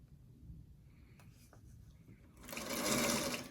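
A sewing machine stitches one quilt four-patch with a quarter-inch seam, a quiet stretch giving way to a close, steady motor whir with rapid needle chatter over the last second.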